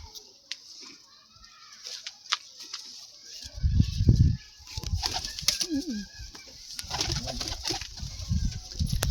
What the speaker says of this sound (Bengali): তো পায়রা দুটো ছাড়ো দেখি